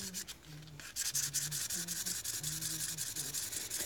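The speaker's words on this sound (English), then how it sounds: "I thought it would be easier to sand through the black layer" Sandpaper rubs through a super-thin black layer, likely polymer clay rolled on a pasta machine's thinnest setting, in steady rapid back-and-forth strokes, close and continuous with a bright scratchy texture and no talking.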